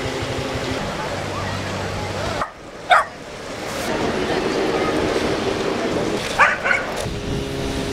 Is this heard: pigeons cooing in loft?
no